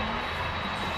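A fixed-wing airplane near Narita Airport makes a steady, continuous engine roar that holds at an even loudness throughout a short outdoor stretch.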